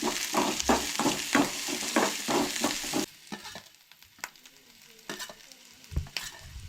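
Ingredients for a Goan red cowpeas and coconut curry are sautéed and stirred in a pan: rhythmic scraping strokes over a loud sizzle, then softer, sparser stirring and tapping.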